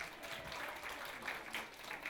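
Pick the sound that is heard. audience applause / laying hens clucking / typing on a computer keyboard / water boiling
audience applause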